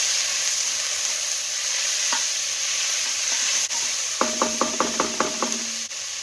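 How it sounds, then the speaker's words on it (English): Onion, celery and bell pepper go into hot canola oil with jalapeno and garlic, raising a loud, steady sizzle, and a short burst of quick wooden stirring knocks follows near the end. "And now we're going to add in the Holy Trinity, jalapeno, and garlic."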